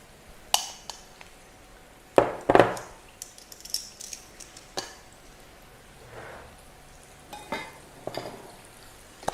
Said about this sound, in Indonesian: Lalu digoreng bersamaan dengan ayamnya.